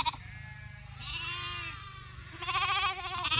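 Sheep bleating in a tall-grass pasture, a few drawn-out wavering bleats from nearby animals, one after another with short gaps, alone without talk.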